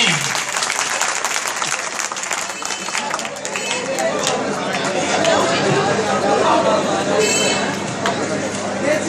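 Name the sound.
audience applause at a mushaira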